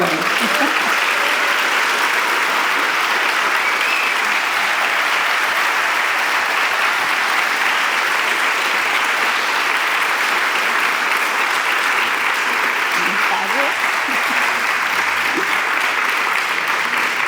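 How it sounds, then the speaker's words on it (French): Large audience applauding during a plenary session at a conference, a dense, even wash of clapping held steadily for the whole stretch with faint voices underneath. "Vous pouvez les applaudir."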